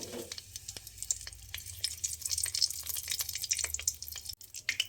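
Bay leaf and dried chilli sizzle in a little hot mustard oil in a wok, a bright, crackling fry with scattered pops and stirring scrapes throughout, close and steady, without talk.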